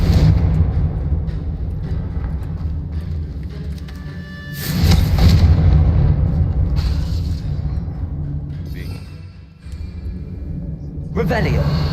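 Confringo blasting spells explode in the game Hogwarts Legacy, deep rumbling booms and whooshes recurring through the scene, the loudest burst near the middle, with a voice talking over them.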